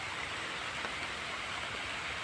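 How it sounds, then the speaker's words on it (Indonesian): Heavy, steady downpour falling outdoors during work on a grafted mango tree, a dense even hiss of rain with no pauses, fairly close and constant throughout. "Karena saat ini memang hujannya lumayan cukup deras"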